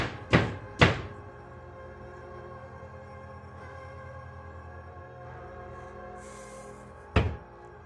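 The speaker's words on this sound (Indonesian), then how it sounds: "Dari dalam lemari rumah, mereka sering terdengar suara ketukan aneh yang tidak diketahui asalnya." Knocks sound from inside a wardrobe in a home: two sharp thuds close together, a long hum-filled pause, then one more heavy knock.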